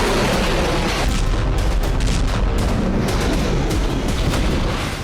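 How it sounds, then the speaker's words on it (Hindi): Heavy gunfire and booming blasts from a warship's guns and missile launches at sea, a dense, continuous roar of overlapping explosive bursts without pause. "मिसाइलें दागी जा रही।"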